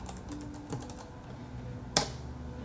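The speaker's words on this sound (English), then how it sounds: "And I type Google." Keys clatter on a ProtoArc ergonomic wireless keyboard in a few quiet, scattered taps, with one sharper click near the end.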